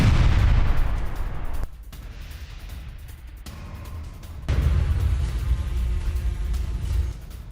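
Blasts from a Russian drone attack on a Ukrainian mortar launch pad produce heavy, rumbling booms that swell and fade in long bursts. A deep roar opens the sequence, then falls to a quieter stretch and returns for a second sustained rumble.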